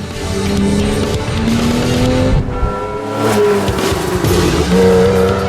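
A Porsche sports car is driven hard along a scenic stretch of road, its engine droning loud and steady with shifting revs while the tires squeal through corners, continuous and close throughout.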